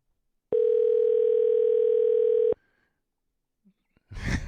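A steady telephone dial tone hums for about two seconds, clean and even, then cuts off, followed by a faint click and a burst of noise at the end.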